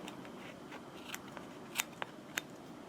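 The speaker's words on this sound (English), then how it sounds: "Perhaps not, so we'll trim that back a tiny bit." Scissors trim material for a small craft figure, giving a few quick, crisp snips spaced irregularly at close range over a soft, quiet background.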